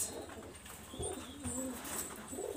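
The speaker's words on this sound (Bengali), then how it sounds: "দেখেন কবুতর দুটো আবার ছাড়িয়ে দিয়েছি" Pigeons coo in soft, repeated throaty calls at close range, with a few higher chirps over a faint background hum.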